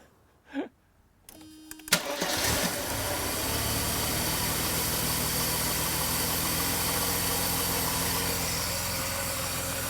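After a few clicks and a brief crank, a car engine with CIS fuel injection, repaired after a no-start fault, catches and settles into a steady, even idle, running smoothly and fairly close.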